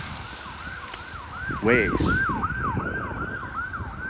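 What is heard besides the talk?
emergency vehicle sirens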